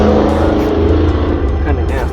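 Steady road traffic rolling past an urban homestead garden on a cloudy day, a loud continuous low rumble of cars and engines close by, with a voice talking over it.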